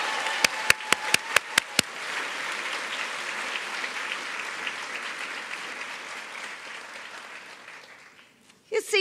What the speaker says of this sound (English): Another round of applause for Devin.